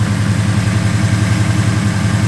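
A 1970 Chevrolet Chevelle SS engine idles with a deep, steady rumble and a throbbing low pulse, loud and close, with no talking over it.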